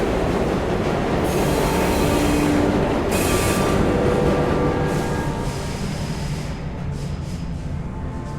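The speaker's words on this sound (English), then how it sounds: "We have reached the end of the line where this train will terminate." A train pulls into its terminal station in the video game Luna Abyss, loud and close, with a steady rumbling roll, metallic wheel squeals and rising hiss as it slows, no voices over it.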